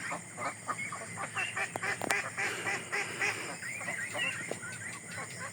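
Domestic ducks quack at night in a steady, overlapping chorus of raspy calls from a flock close by, with a sharp knock partway through and continuous background hiss.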